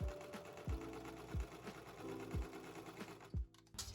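A sewing machine stitches around the top edge of a dress collar, running in a steady mechanical rhythm with repeated low thumps of the needle, close and fairly loud, with no talking.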